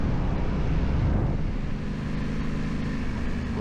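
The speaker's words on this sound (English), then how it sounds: "Sure is windy" Heavy wind buffeting while riding a Yamaha Tenere 700 motorcycle on Pennsylvania back roads, a constant low roaring rush of air over the rider's helmet and microphone with the engine drone underneath.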